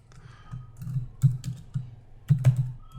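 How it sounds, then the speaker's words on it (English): Keystrokes on a computer keyboard while entering values into a field in QuickBooks Desktop, quiet and close, in short irregular bursts of clicks with no talking. "I just need to type into this field and update it."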